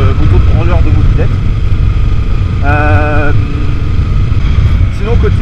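A Kawasaki Ninja 300 with an Exil exhaust runs with a steady, loud low engine drone, and someone talks over it throughout.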